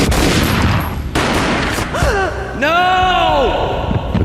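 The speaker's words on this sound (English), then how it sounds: "A gunshot boomed and she fell down in slow motion." Gunfire in the Max Payne video game, with dense loud shooting bursts through the first half followed by a sweeping, wailing tonal effect as the action slows.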